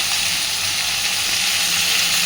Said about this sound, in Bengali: এইবার আমি এর মধ্যে দিয়ে দিচ্ছি একটুখানি আদা বাটা।